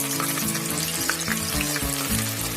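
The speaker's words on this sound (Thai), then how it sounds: "ตั้งกระทะจุดไฟ ใช้ไฟกลางนะครับเพราะน้ำมันเริ่มเดือด เอาไก่ลงไปทอดเลยครับ" Chicken pieces fry in hot oil in a pan over medium heat, giving a steady, dense sizzle that crackles continuously and fairly loudly throughout, with no one talking.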